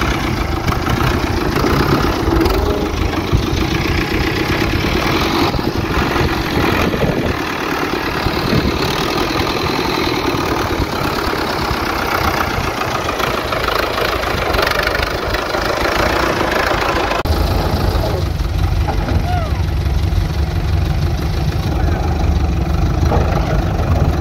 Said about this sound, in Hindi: ट्रैक्टर मेरे ख्याल में आ गया, अब ट्रैक्टर को रोकते हैं